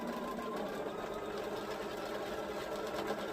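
A sewing machine stitches steadily at close range, a continuous fast mechanical whir and rattle with an even, unbroken rhythm and no talking.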